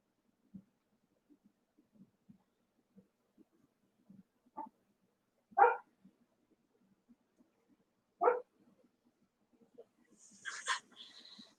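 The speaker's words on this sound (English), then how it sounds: "the stupid dog's wanting in now." A dog outside wanting to be let in gives a few faint, isolated low barks and whines spaced several seconds apart, followed by a slightly higher whimpering sound near the end, against quiet surroundings.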